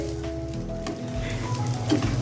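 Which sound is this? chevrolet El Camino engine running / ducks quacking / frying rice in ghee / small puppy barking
frying rice in ghee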